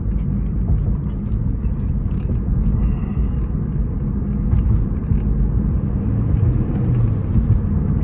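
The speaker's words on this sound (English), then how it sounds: "I want you to really get a good listen and see how the car accelerates" A Lexus CT200H F-Sport hybrid drives over rough, bumpy city roads, heard from inside as a constant low rumbling road drone with occasional light knocks and rattles from the surface, no speech.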